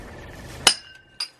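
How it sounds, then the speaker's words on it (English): Glass thrown inside an abandoned pig farm strikes with a sharp, bright crack, followed about half a second later by a second smaller clink, both close and loud over faint background noise. "There's glass flying everywhere."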